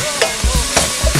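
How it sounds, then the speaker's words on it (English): Pieces of lamb sizzle steadily in a hot pan, with a few quick stirring scrapes against the metal, close up and fairly loud. "Whilst that lamb is frying as well"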